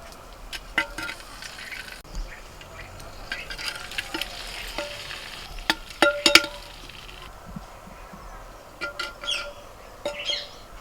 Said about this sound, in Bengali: একেবারে হাঁড়ির নিচেতে আমি চিকেনগুলোকে দিয়ে দিচ্ছি